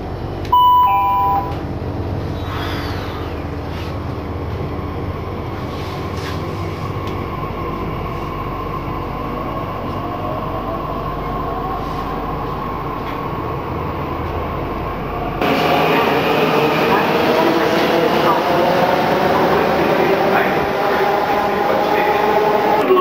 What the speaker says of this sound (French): C'est le métro de luxe hein